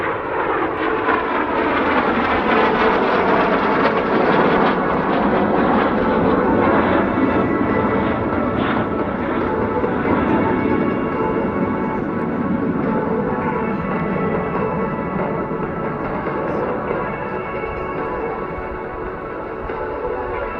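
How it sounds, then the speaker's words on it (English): An L-39 jet at an air show roars past, a loud, broad engine rumble and whine that swells, holds and slowly fades as it flies away, with no talk over it. "Michael also enjoys flying not only the L-39 jet"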